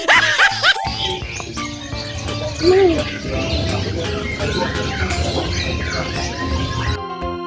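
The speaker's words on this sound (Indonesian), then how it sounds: "Ada burung merpati, burung." Pigeons and other birds call among a crowd of animals for sale, with short chirps and a cooing phrase near the middle over steady busy background noise and people talking.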